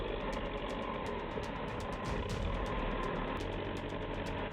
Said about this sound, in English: The Belarus MTZ tractor gets stuck in the mud and has to rely on another